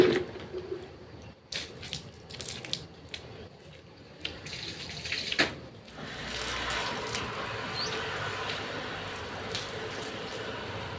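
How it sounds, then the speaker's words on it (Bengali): Tap water runs through a pipe into a drum, starting with scattered knocks and splashes and then settling into a steady rushing flow for the second half. "আমার কলের জল নেওয়া হয়ে গেল, আর আমি এখানে ড্রামটাতে ভরে দিচ্ছিলাম"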